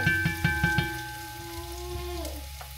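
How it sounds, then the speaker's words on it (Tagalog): Onions sautéing in a pan at home, a few sharp clinks of a utensil against the pan at the start over a steady sizzle that fades as a faint tonal hum lingers. "nilagay ko na yung sibuyas. Gisa-gisa lang naman to."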